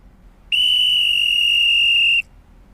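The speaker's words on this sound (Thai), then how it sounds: "ครูยกตัวอย่างเสียงนกหวีด" A single sustained, shrill whistle blast lasting under two seconds, steady and piercing, sounding on its own against a quiet background.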